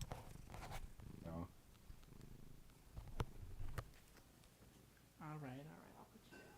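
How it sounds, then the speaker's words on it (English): A cat purring softly while being held, heard close up in low, steady rumbling stretches under frequent talk from several people. "he's already purring and you just met him?"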